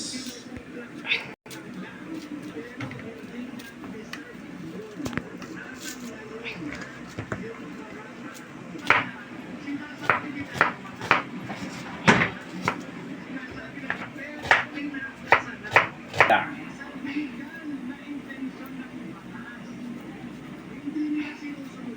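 A knife chops onions on a board, giving a run of sharp, irregular knocks that cluster toward the middle, under steady talking close by.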